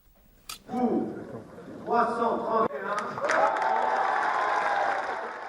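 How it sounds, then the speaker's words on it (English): The French Parliament chamber fills with applause from a large crowd as a bill passes, with voices shouting and cheering across it as the clapping swells and holds. "There was applause in the French Parliament as the bill was passed"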